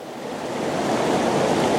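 Water flows in a broad, steady rush close by in a snowy outdoor setting, swelling slightly louder over the short stretch, with no voices.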